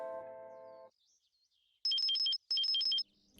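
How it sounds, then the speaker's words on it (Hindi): A phone ringtone plays two short repeated bursts of bright electronic beeps, loud and clear after a brief musical passage, with no talking over it. "एक सेकेंड, हाँ शरद सर का फोन है।"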